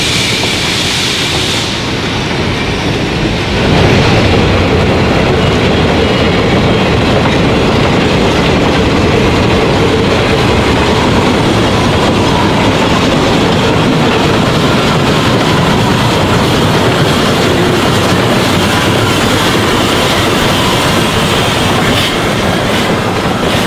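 A steam locomotive switches railroad cars on a mountain railway, heard as a loud, continuous rumble of rolling wheels and rail clatter throughout, with a brighter hiss near the start and no voices.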